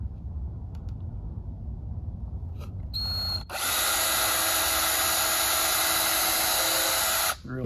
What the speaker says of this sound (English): Take a drill, 3/32 bit.